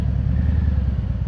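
Harley-Davidson motorcycle riding on a highway, a steady loud engine rumble with wind noise, continuous and close, no talking.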